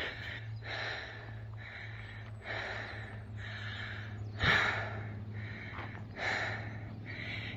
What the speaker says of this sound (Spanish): Como siempre, nada más escuchan mi respiración.